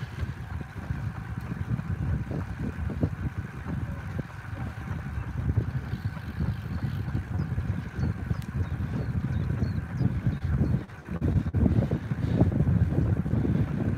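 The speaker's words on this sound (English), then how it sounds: "Now we get the headwind." A headwind buffets the microphone during a live 3000m run attempt, heavy continuous low rumbling gusts that swell and dip throughout.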